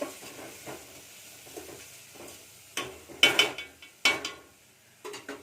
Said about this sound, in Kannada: ಇದು ಹಸಿ ವಾಸನೆ ಹೋಗೋವರೆಗೂ ಫ್ರೈ ಮಾಡ್ಕೋಬೇಕು